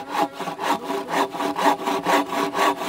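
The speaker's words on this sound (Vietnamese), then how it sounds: "Còn anh Lanh thì phải đi cưa gỗ này" Wood being cut with a handsaw outdoors for firewood, a steady back-and-forth rasp of about a dozen even strokes, close and alone with no talk.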